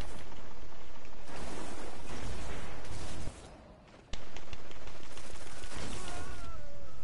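A grenade explodes in a gunfight in the video game Destiny, loud bursts amid constant gunfire, with a brief drop in level before the shooting and blasts resume.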